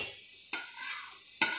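Spinach is stirred while it roasts in a pan, two sharp scraping strokes of a utensil rising over a soft sizzle in a brief, close burst.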